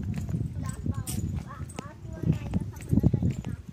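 Bullocks' hooves clip-clopping in an uneven, moderately close patter, with people talking over the steps.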